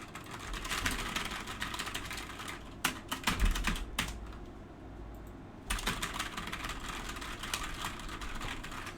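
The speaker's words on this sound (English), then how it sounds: "if you just smash the keyboard, it makes you look like a hacker" Rapid, frantic keyboard smashing and typing on a computer keyboard, a dense clatter of keys nearby over a steady background hum, with a brief pause midway before the mashing resumes.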